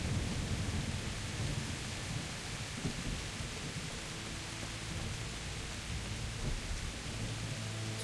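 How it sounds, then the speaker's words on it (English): Steady rain pours in the medieval Bohemian world of the video game Kingdom Come: Deliverance, a dense, even wash of rainfall with low rumbling underneath that holds constant throughout, with no talking. "Raining, it's pouring"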